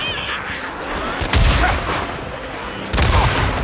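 Gunfire in the video game Days Gone during a fight against a zombie horde: a few heavy booming shots over dense game noise, with two louder blasts standing out, close and loud.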